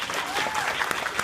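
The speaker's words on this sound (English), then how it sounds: "Please, a round of applause to this guy" A convention crowd at Comic Con gives a dense, loud round of clapping, sustained and close throughout with a few sharper claps standing out.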